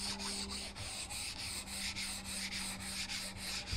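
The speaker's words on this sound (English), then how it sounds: "I'm just kind of rubbing over the top of it and letting the sandpaper do what it needs to." Hand sanding with sandpaper over the finish of a wooden hall table, a close, rhythmic back-and-forth scratchy rubbing in even strokes, quiet and alone with no talking.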